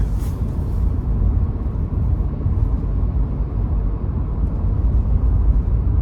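Steady low engine and road rumble from a 2023 Toyota 4Runner SR5 driving, heard from inside the cabin as a constant, even drone with no voices.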